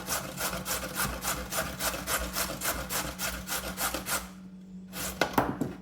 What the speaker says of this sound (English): Start grating our carrots.